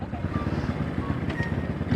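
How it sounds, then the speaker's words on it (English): Pit bike revving hard through a second gear wheelie, a buzzing small engine note that drones steadily with wind buffeting the microphone, heard from close by over two seconds. "So, second gear wheelie, and then stop with a stoppie."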